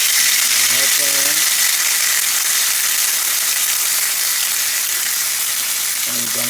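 Grilled chicken pieces sizzle loudly and steadily in a skillet, a dense hiss filling the scene, with a voice briefly talking over it.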